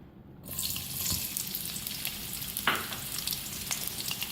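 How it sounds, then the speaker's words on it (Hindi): Chopped onions hitting half a cup of hot oil for cumin rice, bursting into a loud, steady frying sizzle that fills the space right after a brief quiet start, close to the pan with no talk. "ये मैंने हाफ कप ऑयल लिए, उसमें सबसे पहले प्याज डालेंगे"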